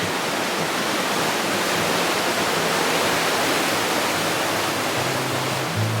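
A steady, loud rush of water flowing under a small town bridge fills the scene, an even broadband wash with no pauses and no voices.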